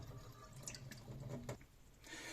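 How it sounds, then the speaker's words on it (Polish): Sushi rice being rinsed at a kitchen sink as cloudy water is poured off and cold water added, a continuous close splashing and trickling with dripping accents. "trzeba wylać tą wodę i jeszcze raz zalać zimną wodą"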